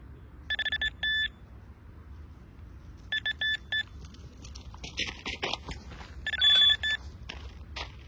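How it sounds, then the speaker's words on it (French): An electronic bite alarm on a left-hand carp rod at a public fishing pond beeps in short rapid bursts, a few clusters spaced over several seconds, fairly close against quiet outdoor background. "Premier bip de la canne de gauche."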